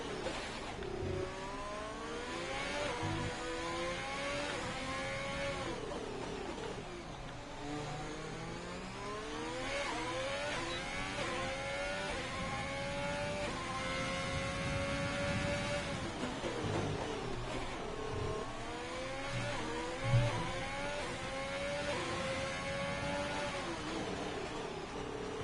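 F1 race car engine in a video game esports league race at the Singapore Grand Prix, a high-pitched whining drone rising and falling through gear shifts and revs across the lap, continuous and steady with no talk.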